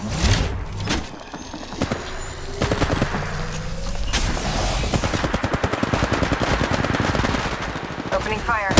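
Rapid automatic gunfire rattles in the mobile battle-royale game Apex Legends Mobile, with bursts of shots and sustained machine-gun strings under occasional game voice lines.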